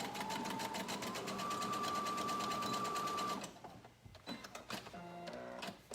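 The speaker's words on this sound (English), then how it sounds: "So I've sewed the elastic into a circle." A sewing machine stitches elastic into a circle, running fast and steady with a rising whine for about three seconds before stopping, followed by a few softer handling clicks and rattles.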